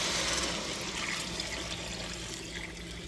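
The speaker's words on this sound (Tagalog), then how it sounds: "Lagyan na natin ng tubig." Tap water runs steadily into a cooking pot for spare ribs with kangkong, a continuous broadband pour at moderate level with no talking.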